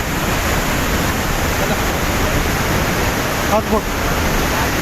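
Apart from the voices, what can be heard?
waterfall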